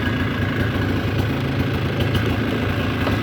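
A 2000 Polaris Xplorer 250 4x4 ATV engine runs steadily at idle, a close, continuous low mechanical drone with a slight throb and no talking.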